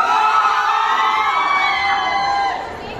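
A crowd of adults and children shouts and cheers at full volume in a loudest-shout contest at an outdoor event, a dense sustained roar that fades slightly at the end.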